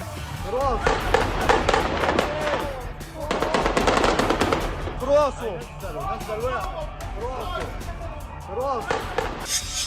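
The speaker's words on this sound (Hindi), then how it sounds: "फिलिस्तीन के राष्ट्रपति महमूद अब्बास के काफिले पर आतंकवादियों ने यह ताबड़तोड़ फायरिंग की।" Automatic gunfire from an attack on the convoy of Palestinian President Mahmoud Abbas: rapid bursts of shots come in clusters under continuous talking.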